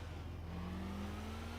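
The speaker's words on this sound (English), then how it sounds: "And this car sounds so much better. Nice, quietish" A car engine in Test Drive Unlimited hums steadily at a fairly quiet level, its pitch rising smoothly as the car accelerates, with no voices over it.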